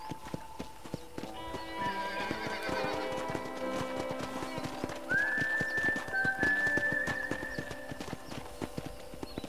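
Horse hooves clip-clopping steadily with a whinny partway through, in the Red Dead Redemption video game, alongside game music and a man's speech.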